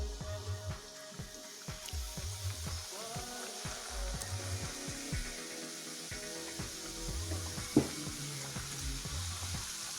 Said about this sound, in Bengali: আমরা এভাবে কিছুক্ষণ ভাজতে থাকবো।